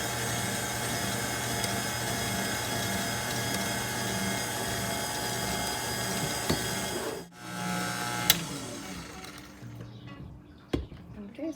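An electric mixer whirs steadily through lemon loaf batter with eggs and lemon zest, a constant motor drone that cuts off partway, followed by quieter clatter and brief knocks.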